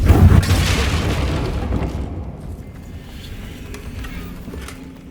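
A Confringo spell detonates in Hogwarts Legacy with a loud, deep boom at the start, then a rumbling blast that fades into a long, softer tail.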